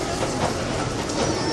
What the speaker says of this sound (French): là on est dans le métro et on va direct par Parvis Saint-Gilles